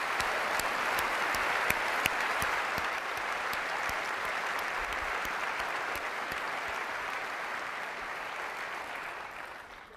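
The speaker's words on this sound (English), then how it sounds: "I'd really like to give one more round of applause" Sustained audience applause at an Apple developer keynote, a dense, steady wash of clapping from a large hall lasting throughout, loud and even with no talk over it, tapering only slightly at the end.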